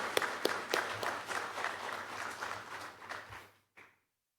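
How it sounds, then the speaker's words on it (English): A conference audience applauds its presenters with a moderate round of clapping that runs for over three seconds and then stops abruptly, leaving silence. "let's give a round of applause for our presenters to get them warmed up."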